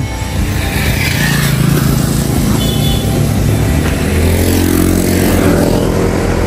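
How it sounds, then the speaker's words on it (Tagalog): Motorcycles pass along a road at Kalingap near the end of Luzon, their engines loud, close and continuous, revving over about six seconds with no one talking. "Halos lahat pala dito mga motor na, no?"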